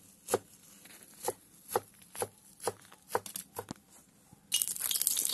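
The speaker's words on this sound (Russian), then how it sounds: "сразу порубим зелень," Knife chopping fresh herbs on a board outdoors, a steady series of sharp chops that quickens toward the end, followed by a burst of hissing as pork goes into a cauldron over a campfire.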